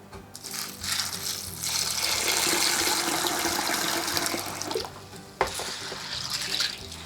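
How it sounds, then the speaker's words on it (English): Beans for Nigerian stewed beans being rinsed in a bowl, with a steady rush of running water and sloshing for several seconds, then a sharp knock and more swishing near the end. "So next, I'm going to be rinsing my beans."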